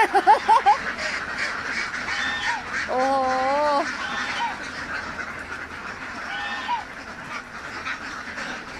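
Ducks quack in a noisy outdoor scene, with a brief exclamation from a person near the start and a steady background hubbub.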